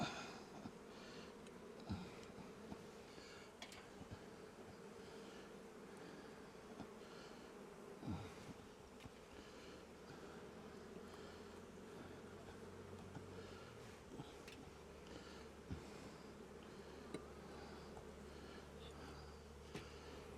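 Honey bees hum in a steady, faint drone from an open hive being inspected for winter, with a low mechanical hum joining partway through and no voices.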